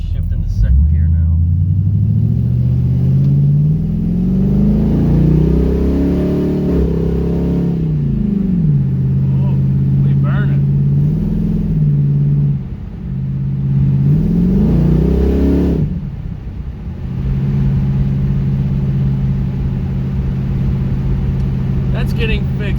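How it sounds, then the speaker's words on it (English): LS-swapped Pontiac Firebird engine revving hard as its transmission shifts gears, loud rising and falling rumble with sweeping pitch climbs, drops at each shift and steady holds, with a voice talking over it. "Let's see if this transmission will shift into 2nd gear now."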